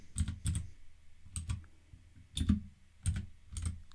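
Keys clatter on a computer keyboard as a word is typed into the Windows search box, six short bursts of close, quiet clicking with brief pauses between them and no talking.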